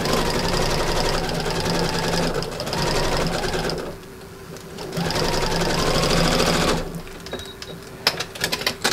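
A sewing machine stitches fabric pieces for a quilted wallhanging, running in fast continuous bursts with a rapid mechanical chatter, pausing briefly midway and then starting again, close and loud before ending in a few quick clicks.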